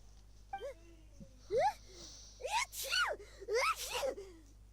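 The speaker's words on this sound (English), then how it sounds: "Please stop sneezing on me." A video game character sneezes several times in short, squeaky bursts with a rising and falling pitch, each sneeze fairly close and clear against a quiet, steady hum.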